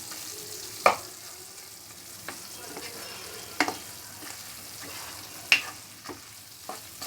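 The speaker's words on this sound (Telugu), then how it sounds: "మొత్తం అదంతా చికెన్లో కలిసేలాగా కలుపుకోవాలండి." Spoon scrapes and stirs masala through chicken for Andhra-style chicken pickle, several sharp clacks against the pot over a low steady sizzle, with no talking.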